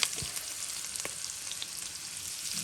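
Sausage pieces fry in a pan on top of bacon for a Zuppa Toscana-style soup, a soft, continuous sizzle and crackle with a few light pops, alone and fairly quiet.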